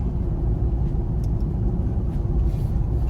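Inside a moving car fitted with a subwoofer system, a deep, steady road rumble and engine drone continues throughout at moderate loudness, with faint light rattles on top and no talk.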